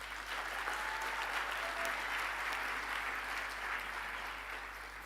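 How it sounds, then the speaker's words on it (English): An audience at a university graduation ceremony bursts into sustained applause, with broad, even clapping that holds for several seconds, faint but unbroken. "Let's give them a big round of applause,"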